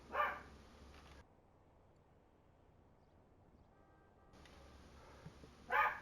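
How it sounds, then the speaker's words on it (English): A dog barks nearby in short bursts, one at the start and one near the end, with a quiet pause between them. "And sorry about my dog."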